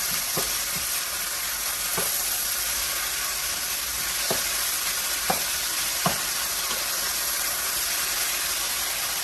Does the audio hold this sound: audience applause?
no